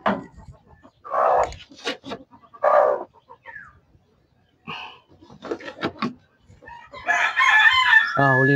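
Newly hatched chicks peep in short high bursts amid rooster crowing and clucking nearby, with brief pauses between calls and a louder cluster of chirps near the end.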